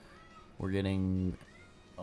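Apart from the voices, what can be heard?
cat meowing in the background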